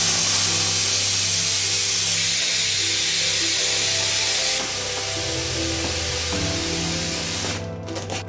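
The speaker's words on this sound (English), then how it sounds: "Place the nozzle of the helium tank into the back of the balloon and then, holding firmly," Helium from a party tank hisses steadily as it fills an air swimmer balloon, a loud continuous spray lasting several seconds that shifts pitch midway and cuts off at the end, with no talk.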